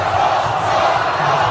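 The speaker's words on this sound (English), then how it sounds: "the cheering is happening here for Ron Paul in the stadium" A large stadium crowd roars steadily for Ron Paul, a dense, loud wash of cheering and shouting with no break.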